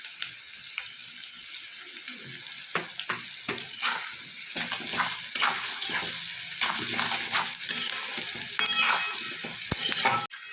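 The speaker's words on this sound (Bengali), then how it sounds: "পেঁয়াজটা আমার অনেকটাই ভাজা হয়ে গেছে।" Onions fry in a pan with salt added, a steady soft sizzle broken by frequent scraping and clattering stirring strokes, close and moderately quiet, with no talk.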